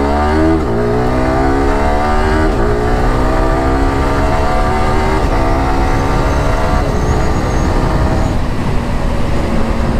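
A Yamaha R15M motorcycle with a quick shifter accelerates hard and close, its engine climbing in pitch through several quick upshifts. Each gear change brings a brief dip, then the revs climb again under a loud, continuous roar, with no voices.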